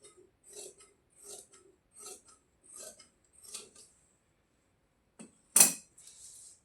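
Scissors snip through heavy winter suit fabric at a home boutique, five evenly spaced crisp cutting strokes close by, then a pause and a single sharper clack near the end, all in quiet surroundings.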